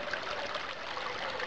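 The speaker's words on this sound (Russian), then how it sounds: "Вот это вот родник." Spring water from an underground source trickles steadily in a soft, continuous babble in a mountain forest near Yalta, quiet and close, with no voices.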